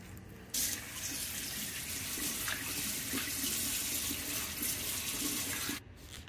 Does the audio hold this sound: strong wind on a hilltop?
no